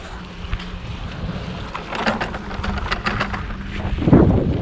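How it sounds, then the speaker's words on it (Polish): Steady wind buffeting the microphone, a low rumbling roar with gusts swelling louder toward the end; no voices. "Mam nadzieję, że będzie mnie słuchać przez ten wiatr"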